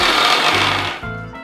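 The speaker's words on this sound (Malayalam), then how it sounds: "ഇങ്ങനെ ആഡ് ചെയ്തതിന് ശേഷം നമ്മൾ മിക്സി അടച്ചു വെച്ച് ചെറുതായിട്ടൊന്ന് അടിക്കുക" A mixer grinder runs briefly at speed 1 on puttu flour. There is a loud, harsh motor whir for about a second that then cuts and winds down, heard up close with no talk.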